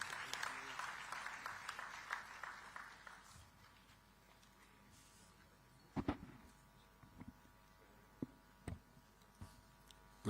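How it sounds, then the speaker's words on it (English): Conference audience at a digital technology summit in Visakhapatnam clapping as a minister takes the stage; scattered, fairly faint applause fading within a few seconds, followed by a few isolated claps and knocks in a quiet hall. "Let us all express our appreciation with a thunderous round of applause"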